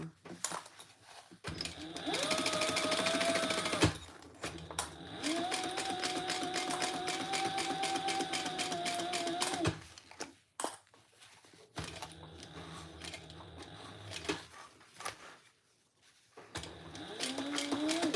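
A sewing machine runs a seam on a bag lining in several long bursts, steady mechanical whirring broken by short pauses, close and fairly loud, with a voice talking between runs.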